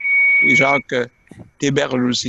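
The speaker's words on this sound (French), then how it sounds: "un bouton qui fait bip" A steady electronic beep from a button on a respirator wheelchair sounds at a meeting, a sustained tone that starts alone and then continues faintly beneath a person speaking.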